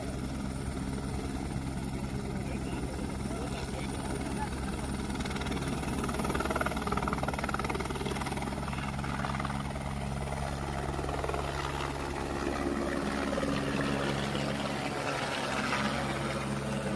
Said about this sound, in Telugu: నెక్స్ట్ అయితే హెలికాప్టర్ రైడ్ కూడా ఉందండి.